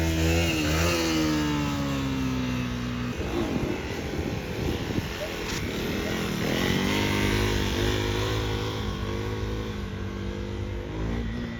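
A supermoto motorcycle engine, a KTM 450 EXC-F or 390 SMC R, revs and drops repeatedly during stoppies and wheelies, rising and falling in pitch, with crowd noise and voices in the background.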